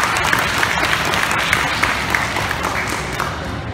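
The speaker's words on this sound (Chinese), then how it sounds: "一样我们给你掌声" An audience at a primary school graduation presentation claps in steady, dense applause that fills the whole stretch loudly, fading slightly at the end.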